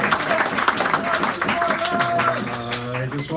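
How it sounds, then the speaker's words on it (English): An audience claps for a performer at a San Francisco cafe poetry hour, a dense patter of hands under a voice that carries on over it. "give him a round of applause"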